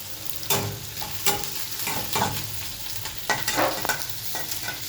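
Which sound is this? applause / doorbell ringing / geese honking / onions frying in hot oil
onions frying in hot oil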